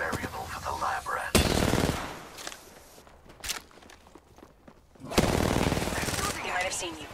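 Bursts of automatic gunfire in the Apex Legends battle royale, loud dense volleys at the start and again near the end with quieter shuffling and scattered shots between, mixed with game sounds and voice lines.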